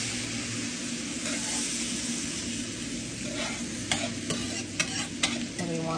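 Chicken fries in a pan with butter and leftover juices, giving a dense, steady close sizzle, with a few sharp utensil clicks near the end.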